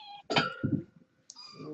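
Kittens mewing at home in the evening, a couple of short high cries close by with a soft chime-like tone, brief and fairly quiet.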